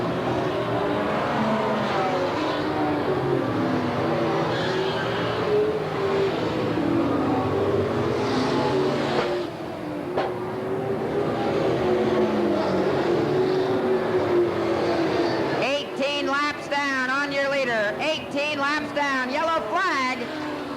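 Race cars roaring around the Willamette Speedway oval at a 1989 P.O.S.S.E. event, a steady loud engine drone with cars passing, under continuous announcer commentary and crowd ambience.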